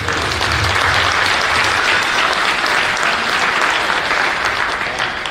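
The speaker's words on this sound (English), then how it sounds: "Give a round of applause for all the parents on this team." An audience at a youth basketball league championship applauds the team's parents, a steady, dense round of clapping that holds evenly throughout.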